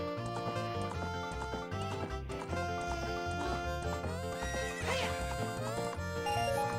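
Epona, the horse in The Legend of Zelda: Ocarina of Time, gives a loud whinny over the game's steady melodic music, with hoofbeats clopping beneath.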